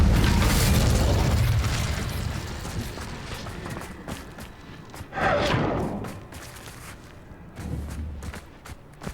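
An Incendio fire spell roars in Hogwarts Legacy, a loud whooshing burst at the start that fades, followed by another flaring surge and scattered footsteps and clattering afterward.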